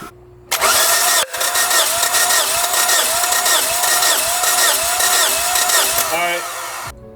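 A high-mileage Toyota engine, about 220k miles, cranks over with its spark plugs out for a compression test: a loud, close, rhythmic starter churn that runs steadily for several seconds, then stops.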